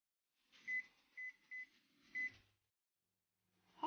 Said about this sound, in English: You can reheat using the microwave